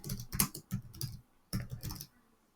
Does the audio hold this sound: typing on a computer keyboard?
yes